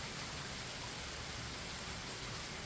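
Rain falls outside on a rainy day as a faint, steady, even hiss with no voices.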